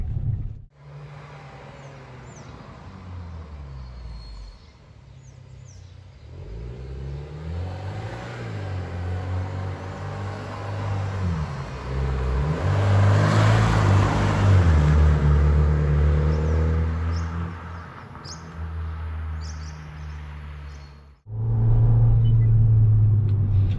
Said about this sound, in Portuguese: ele é um carro que ele tem uma aceleração rápida, a turbina tá cheia rápida